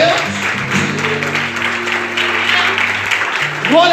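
A church congregation applauds during a pastor's sermon, steady clapping forming an even wash of noise over sustained instrumental tones in the background.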